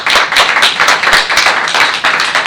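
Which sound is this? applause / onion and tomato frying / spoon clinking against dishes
applause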